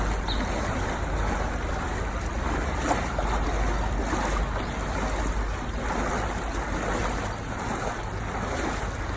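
Steady wind and rushing water surround a moving tour boat on a river, with a constant low engine rumble and no voices.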